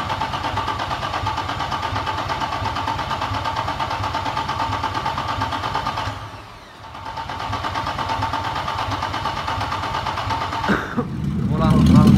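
A Mercedes W123 engine under rebuild runs at a steady, close idle, dips briefly as if cranked or stalled, then settles back into a continuous rumble, with a louder burst of revving or cranking at the end.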